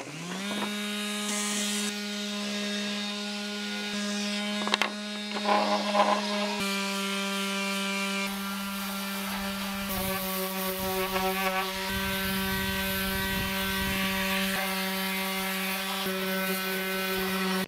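Power sander working a custom skateboard deck, a steady high whine with a constant motor hum that shifts in tone as the tool presses and moves across the wood.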